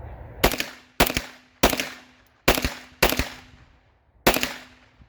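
Rifle shots fired in a quick irregular string, six loud sharp cracks each followed by a short decaying echo, spent casings ejecting forward, no talking between the shots.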